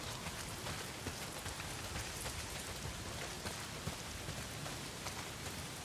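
Heavy rain pours steadily in the Days Gone game world, a dense, even hiss drumming on surfaces with no break for the full stretch and no voices over it.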